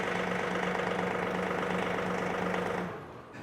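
A John Deere 3046R compact tractor engine idling close up, with a steady, loud, even hum and rattle holding for about three seconds before suddenly dropping quieter, heard alone.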